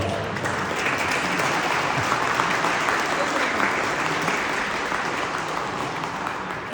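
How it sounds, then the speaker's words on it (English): Steady, dense audience applause at a president's address on Vijayadashami, continuous clapping that holds evenly for several seconds. "please clap a little bit longer so she gets the longest applause"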